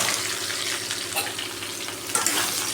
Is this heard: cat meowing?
no